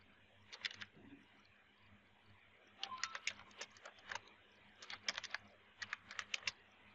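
Code typed on a computer keyboard: quiet, close clusters of rapid key clicks in short bursts, separated by brief pauses, over a low hum, with no speech.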